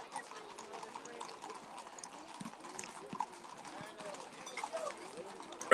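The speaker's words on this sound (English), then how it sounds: "So this one's got 4 horses" Hooves of four horses clip-clop softly as they pull a cart in a religious procession, a faint irregular clatter under crowd murmur and nearby talking.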